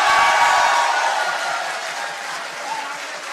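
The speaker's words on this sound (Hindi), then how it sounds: "अब आप सबकी तालियां भी चाहिए," Loud applause from a large audience at a Hindi poetry gathering rings out at the start and gradually thins, continuing as a steady patter of clapping.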